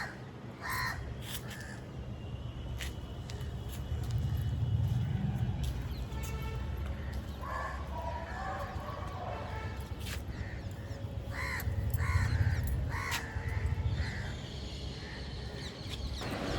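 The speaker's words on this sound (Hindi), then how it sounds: "ये कौवा जो है ना, जिसको मैं खाना देती हूँ, वही इतना ज़्यादा बोल रहा है, पीछे से आवाज़ आ रहा है" A crow caws repeatedly from behind a rooftop garden, its harsh calls coming in bursts over a steady outdoor hum, some close and loud, others fainter, with light insect chirping in the background.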